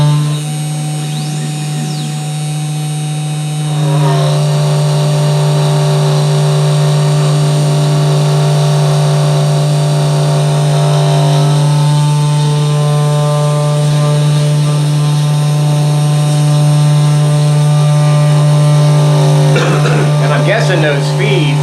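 A Genmitsu 4040 Pro CNC router's spindle motor runs at about 2,000 RPM, a steady loud electric hum with a strong whine that holds throughout, while a person talks.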